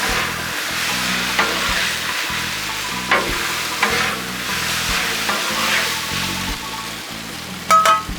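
Jerk shrimp stir fry crackles loudly on a Blackstone griddle as a spatula scrapes and taps the flat metal surface in uneven strokes, ending with a couple of sharp clacks.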